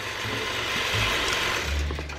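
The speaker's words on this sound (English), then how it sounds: "Winding the bobbins for 2 different quilts" A quilting sewing machine winding a bobbin, a steady close whirring hum with a fine mechanical rattle running unbroken from start to finish.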